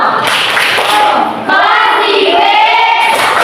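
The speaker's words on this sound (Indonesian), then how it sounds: "Tepuk tangan." Classroom applause with hands clapping after a group presentation, a dense burst of many close claps lasting a few seconds, with a brief lull midway and a tonal voice or squeal mixed in near the end.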